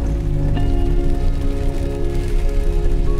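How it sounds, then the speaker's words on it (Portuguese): Late-afternoon rain falls in Varzelândia, northern Minas Gerais, as a loud, dense, steady patter on surfaces throughout, over a continuous low tonal hum. "Graças a Deus, a chuva chegou aí numa hora boa."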